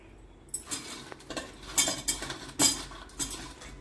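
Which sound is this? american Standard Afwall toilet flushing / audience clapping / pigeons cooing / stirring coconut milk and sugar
stirring coconut milk and sugar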